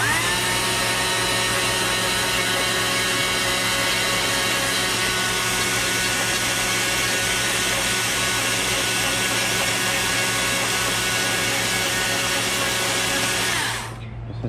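A chainsaw carving a small log into a wood spirit birdhouse, mostly scraping rather than cutting, drones steadily and loudly at close range for the whole stretch before cutting off abruptly at the end.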